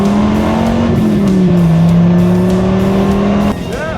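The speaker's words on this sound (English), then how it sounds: "that Durango launches so hard." A 2026 Dodge Durango Hellcat Jailbreak, an all-wheel-drive SUV, launches hard on launch control, its engine roaring loud and close as the pitch climbs through a gear change before dropping off, with a voice briefly heard.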